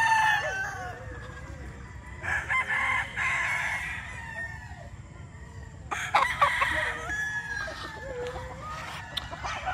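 Gamecock roosters crow several times, long ringing calls rising and falling over a steady low rumble of farmyard background noise.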